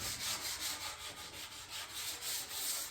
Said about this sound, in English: Just a very light sanding on the edge from sawing them